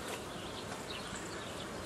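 A dense, steady hum of many honeybees buzzing close by at a hive, continuous and fairly loud, with no voices.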